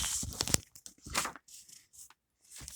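Paper being folded for a craft project, with crisp crinkling and creasing rustles in several short bursts, close up and alone with no talking.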